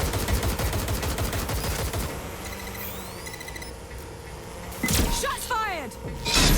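Gunfire in the video game Watch Dogs Legion: a rapid burst of automatic shots up front, then quieter game sounds and electronic tones, followed by more sharp gunshots near the end, with a voice shouting over the action.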